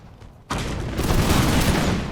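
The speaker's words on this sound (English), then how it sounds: "We've got cannon shots bouncing into our lines." Cannon shots and musket fire in a Napoleonic-era strategy video game battle, a sudden loud burst of overlapping gunfire that stays dense and rumbling after a quiet start.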